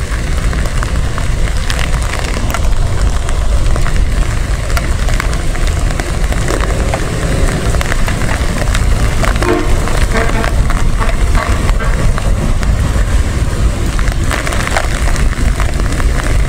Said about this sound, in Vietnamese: Mời cô bác anh chị nghe tiếng mưa rơi trong một buổi chiều có thể nói là ảm đạm của Sài Gòn